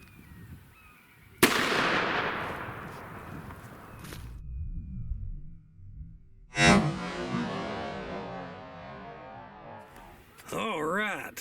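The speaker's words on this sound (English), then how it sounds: "Let's go to the 357 Magnum Underwood ammunition first." A .357 Magnum Underwood round fires into clear ballistic gel: a loud, sharp outdoor report, then a second heavy blast a few seconds later, each ringing and fading, with brief talking near the end.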